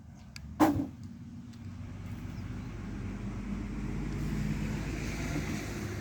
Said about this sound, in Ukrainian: На автомобільну дорогу не звертайте уваги.